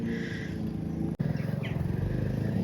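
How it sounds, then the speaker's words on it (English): A communal lawnmower cuts grass paths on an allotment, a low rumbling engine throb with a fast pulsing rhythm running continuously in the background, briefly interrupted by a click. "We have like a communal lawnmower here"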